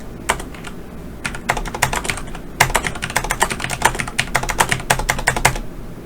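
A computer keyboard is typed on in quick bursts of close, crisp clacks with a few short pauses between runs, and no voices.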